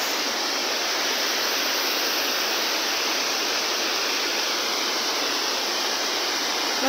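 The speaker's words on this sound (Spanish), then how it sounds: "Bueno, perdón, la cascada" A waterfall pours in a steady, loud, broad rush of falling water, close by and unbroken throughout, with no voices.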